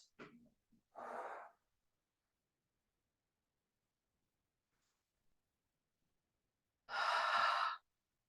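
Sharp exhales during a seated chair exercise come in separate bursts of breath near the start and again near the end, with silence in between.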